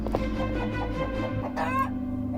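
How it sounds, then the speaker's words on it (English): A chicken clucks several times in quick succession, close and fairly loud, ending with a rising squawk, in a Doctor Who fan audio drama. "A chicken. The most feared species in the universe, Ben."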